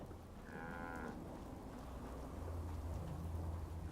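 A cow in the Fallout 4 video game lets out a single low, drawn-out moo lasting about half a second. It sounds near and is clearly audible over a constant rumbling, rain-like ambient background.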